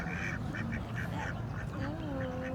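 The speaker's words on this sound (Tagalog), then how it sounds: "Ayan o, mga duck." Ducks quack in a short series of nasal calls along a river in Wadi Hanifa, Riyadh, set against steady outdoor background noise, with a voice briefly audible.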